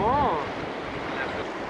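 Wind and sea waves at the Coxyde beach give a steady broadband rush, loud and close, with a brief voice at the start.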